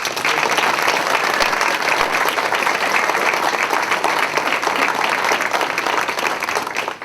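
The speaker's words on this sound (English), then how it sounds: "let's give them all a round of applause" An audience applauds students with dense, loud, continuous clapping that holds steady from start to finish with no talk over it.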